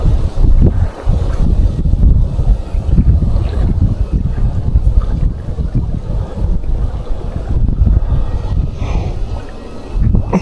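Strong wind buffets the microphone outdoors near open water during a first-time fly fishing outing, a loud, steady low rumble with gusty surges throughout, no clear speech.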